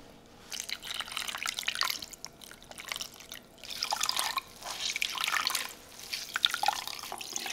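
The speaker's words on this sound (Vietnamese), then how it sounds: "Thêm nước vào bã và mình vắt cho đủ 5 lít nha các bạn." Water squeezed by hand out of corn pulp while making corn milk: close, repeated bursts of splashing and dripping liquid that swell and fade in uneven waves.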